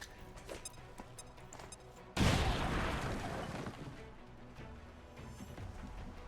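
A grenade explodes in the video game XCOM 2 Long War of the Chosen, throwing out one sudden loud blast and a crashing burst of debris that fades slowly over ambient game sound.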